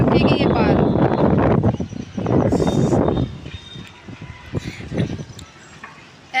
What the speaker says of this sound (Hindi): बहुत ज़ोर की यहाँ पे मतलब आंधी चल रही है, हवा